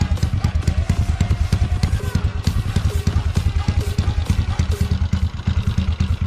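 A Honda Wave 125 motorcycle engine idles close by with a steady, rapid metallic clatter and rattle from a loose, worn chain slapping, running continuously without speech.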